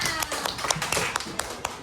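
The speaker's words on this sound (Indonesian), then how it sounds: "Oke, tepuk tangan semuanya." A class of primary school children in Bengkulu, Indonesia claps in a burst of sharp irregular slaps, fairly close, applauding briefly with faint voices underneath.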